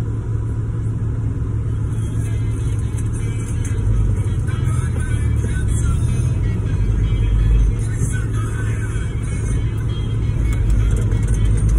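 A 1985 Toyota pickup truck driving, heard from inside as a steady, close engine rumble with road noise that holds even throughout, with no talking.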